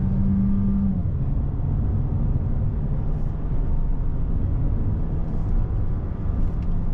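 A VW Golf 8 TSI with an 8-speed automatic climbs the Genting hill road, its engine a steady low rumble with road noise heard from inside the cabin, and a brief higher tone fading in the first second.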